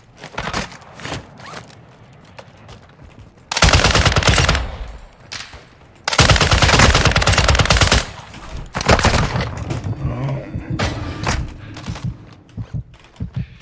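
A RAAL MG machine gun in Call of Duty DMZ, firing long loud sustained bursts in two main stretches, with quieter scattered shots and game noise between them.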